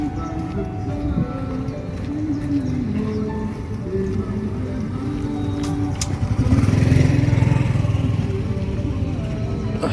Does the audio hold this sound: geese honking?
no